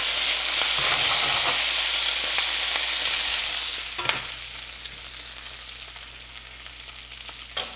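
Already cooked food reheats in a hot pan with a loud, close sizzle that fades to a quieter hiss partway through, broken by occasional stirring knocks.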